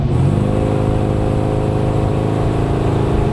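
An LS3-swapped Chevy Blazer's engine drones steadily and loudly at close range as the revs ease down off throttle, with a rich low rumble and no talking.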